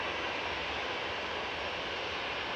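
A Lufthansa Airbus A320 jet moves at Manchester Airport, its engines giving a steady, continuous roar with a broad whine that holds even throughout.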